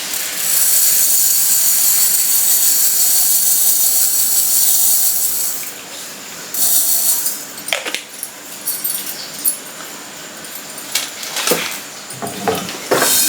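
Yellow mustard seeds dry-roasting in a pan give a steady, dense hiss for several seconds, then thin into scattered crackles and sharp pops.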